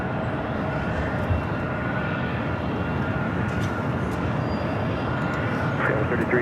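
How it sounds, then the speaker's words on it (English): A Delta 757-200 airliner arriving at LAX from Atlanta sends a broad, steady jet roar across the airfield, loud and sustained throughout, with a faint voice beneath it. "Next arrival is at Delta 757-200 coming in from Atlanta, flight 500"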